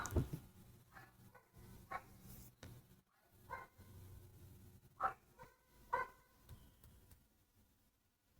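A dog barks and yips in short, irregular bursts indoors, fairly faint and spread across several seconds with no talk.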